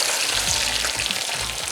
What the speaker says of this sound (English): Now we're just gonna add in the sauteed mushrooms.